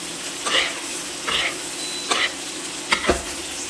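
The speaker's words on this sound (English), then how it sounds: "all this butter's foaming up, so I'm just going to baste the steak" Spoonfuls of foaming butter with thyme sizzle and spatter over a rump steak in a hot pan, in four short bursts above a quiet, steady frying hiss.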